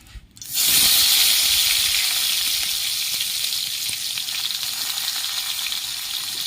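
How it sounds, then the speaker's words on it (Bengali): Pointed gourd hits hot oil with a sudden loud sizzle, then settles into a steady, close crackling hiss that continues throughout. "কড়াইয়ের তেল গরম হয়ে গেছে, পটলগুলো আমি ভেজে নিচ্ছি"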